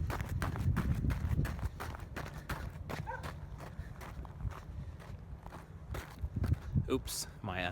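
Running footsteps thud in a quick, uneven rhythm close by, recorded on a handheld gimbal-stabilized camera, with rustling and handling noise mixed in.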